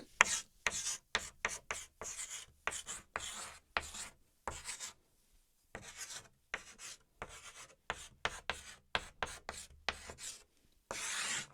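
Marker or chalk scraping across a board in quick, rhythmic bursts of short strokes, with brief pauses between words and a longer gap midway, close and fairly loud with no talking.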